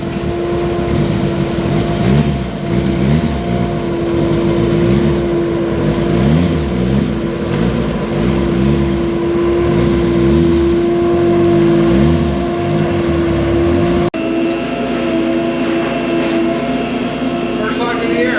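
A vintage Porsche 911 Targa being driven gives a steady, loud engine drone with a constant whining tone, shifting character briefly near the end, and muffled voices underneath.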